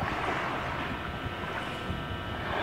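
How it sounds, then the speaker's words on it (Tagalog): Sea waves wash onto the white-sand shore of Dolomite Beach on Manila Bay, a steady broad rush mixed with wind noise across the microphone, with no talk. "napakaganda pong pakinggan yung mga hampas ng alon dito sa dagat ng Manila Bay"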